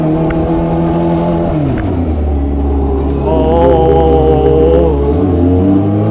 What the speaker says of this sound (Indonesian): ini dua motor aja kalau di jalan kampung berisik banget sumpah